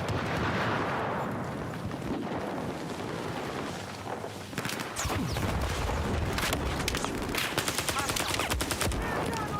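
Hostile machine-gun fire in a Ukraine-set war video game, long loud bursts of rapid automatic shots mixed with heavier booming impacts, the firing growing denser and sharper in the second half.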